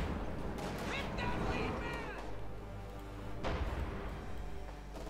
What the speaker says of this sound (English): More rifle attacking here.